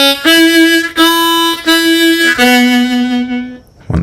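Harmonica playing a short phrase of the old-time tune Going up to Hamburg: loud, close sustained reedy notes changing pitch in a few distinct steps, solo with no talk.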